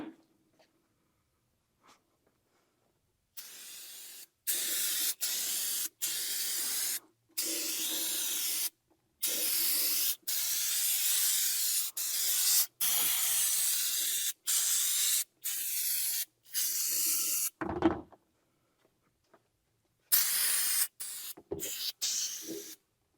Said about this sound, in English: This is just brake cleaner.